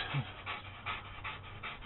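Dogs panting rapidly in a steady rhythm, close and fairly quiet, with no other sounds.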